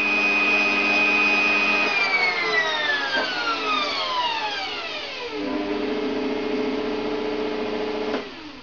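A Bosch MUM4600 stand mixer whirs steadily at its high speed setting, a close, continuous motor hum with a whining tone that shifts in pitch partway through, running alone without voices.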